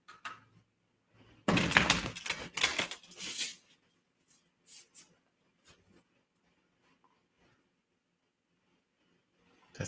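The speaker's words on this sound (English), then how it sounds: "I'll just be shuffling, getting ready." Tarot cards being shuffled by hand up close, a loud burst of riffling and slapping for about two seconds, then scattered soft taps and shuffles with quiet gaps between.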